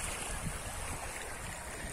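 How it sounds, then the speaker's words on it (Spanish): Swollen Cañalejo river after rain near the Siloé reservoir, producing a steady, broad rushing wash of water that continues unbroken without any voices. "Está creciendo el río Cañalejo a esta hora de la tarde"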